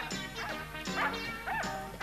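A cartoon dog barks in a loud run of sharp yips and bow-wows, about four bursts in quick succession mixed with whimpering tones, close and prominent.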